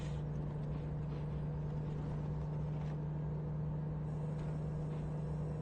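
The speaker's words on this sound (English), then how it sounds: "I hear the truck working to keep me at, well, technically it's keeping me at 70" Steady low engine drone of a big rig in American Truck Simulator, a constant hum with a strong low tone holding at highway speed, loud and continuous with no talking.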